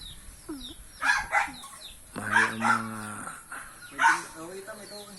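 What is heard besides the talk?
chickens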